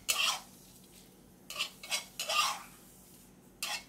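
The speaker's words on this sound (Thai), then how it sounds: "คั่วจนสุกนะครับ เสร็จแล้วนะครับเราก็จะตักพักไว้ก่อนเช่นกันนะครับ" A spoon scoops toasted dried chillies from a pan for Thai chilli paste, giving a few short scraping, clinking strokes with pauses between them, close and clear.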